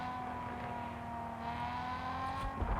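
A video-game car engine runs at a steady drone with a constant tonal hum, rising slightly toward the end, with no speech over it.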